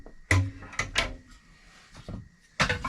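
A wood stove door knocks shut, a few sharp clunks and rattles of metal close by in a quiet room, with brief scraping between the hits.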